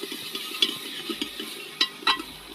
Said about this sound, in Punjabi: ਤੇ ਹੁਣ ਇਹਨਾਂ ਚੀਜ਼ਾਂ ਨੂੰ ਚੰਗੀ ਤਰ੍ਹਾਂ ਫਰਾਈ ਕਰ ਲਓ